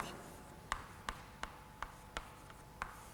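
Pen strokes tapping on a board or paper while a matrix is written out by hand, about seven sharp, evenly spaced ticks over a quiet room hum, no talking.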